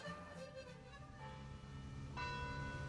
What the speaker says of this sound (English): It's so quiet we can hear the church bells at Neu calling the faithful to prayer.